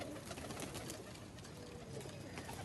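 Pigeon brought from Kasur cooing softly amid a dense, noisy background, faint and somewhat masked, with no clear speech.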